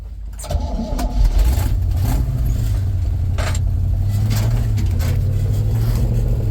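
A 1966 GMC pickup truck engine runs while the truck is put into reverse, a steady, close low rumble that holds throughout with a few faint clunks on top.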